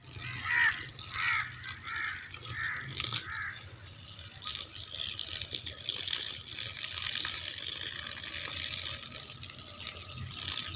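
Water running steadily for field irrigation, a faint continuous gushing flow with a few louder splashes early on and soft distant background sounds.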